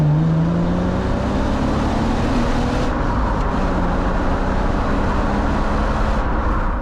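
Jaguar XJ-S 3.6 with a manual Getrag 5-speed gearbox, the engine running under way with a steady loud drone and smooth rising and falling tone, close and continuous, no talking.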